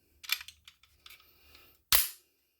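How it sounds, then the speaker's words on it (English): A PSA 5.7 Rock handgun is handled as its magazine is removed and the chamber cleared: a series of small clicks and metallic rattles, then one sharp loud snap of the slide near the end, close and isolated with no talking. "pop out the magazine, clear the gun, check the chamber"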